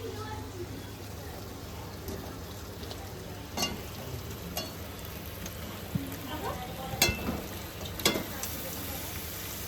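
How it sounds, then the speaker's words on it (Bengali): Fried chicken pieces sizzle in oil and cooked-down spice masala, a soft steady hiss broken by several sharp scrapes and clanks as the pan is stirred. "আমার মশলা কষানো হয়ে গেছে এবারে আমি ভাজা মাংসগুলো দিয়ে দেবো"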